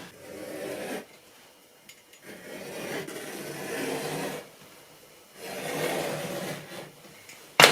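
An anti-slip mat is cut to depth for a kitchen drawer, heard as three rasping, scraping passes of a blade through the mat material, close and moderately loud, separated by short pauses.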